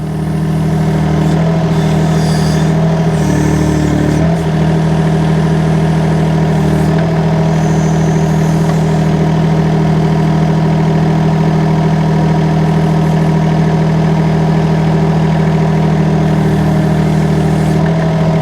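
A mini excavator's engine idles at about 30% revs with a loud, steady, droning hum close by, and faint hydraulic or mechanical shifts appear briefly near the start.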